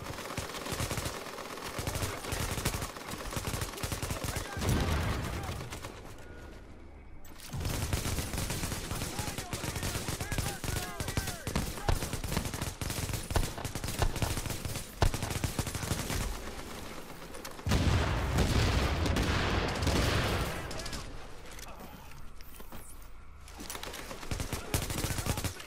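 Rapid gunfire rattles almost without pause through a Times Square legendary mission in The Division, long loud automatic bursts broken by brief lulls, with a player's voice talking over the shooting.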